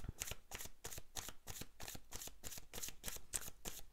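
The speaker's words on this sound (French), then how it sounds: "Alors, on va tirer une autre carte." Tarot cards are shuffled in a quick, even riffle of about a dozen soft papery slaps, close and fairly quiet, with no voices.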